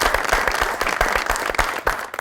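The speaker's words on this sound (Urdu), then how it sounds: "ڈاکٹر صاحب کے لیے بہت ساری تالیاں" Studio audience at a Pakistani television talk show applauding, a steady burst of close, loud clapping from many hands filling the whole clip with no talk over it.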